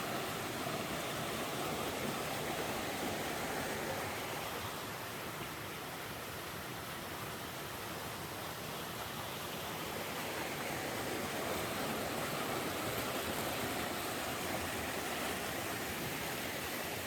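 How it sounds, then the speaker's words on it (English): Steady broadband rush of white water from a stream tumbling along the Appalachian Trail in a national forest, continuous and fairly even for the whole stretch with no voices. "More white water running down there."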